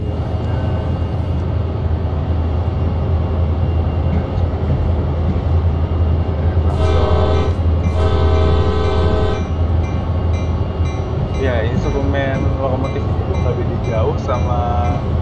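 A diesel locomotive in the game Train Sim World, modeled on Indonesian GE-built CC201, CC203 and CC204 engines, with a loud constant engine drone throughout and two long horn blasts midway.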